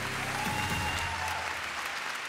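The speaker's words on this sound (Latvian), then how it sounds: "Paldies par aplausiem!" Audience applause from a crowd at a lifetime-achievement tribute, a steady dense wash of clapping that fills the whole short moment without pause.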